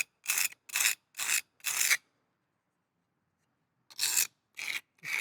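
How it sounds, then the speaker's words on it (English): An object is rubbed on rough cement used as a filing stone, giving four sharp, close rasping strokes, a pause of about two seconds, then three more strokes, with no talk. "we'll literally just use that as a filing stone"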